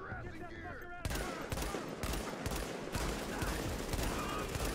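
Enemy gunfire in The Division, a co-op shooter game: sustained bursts of rapid shots rattle loudly and close for several seconds, with a voice briefly heard beneath the firing.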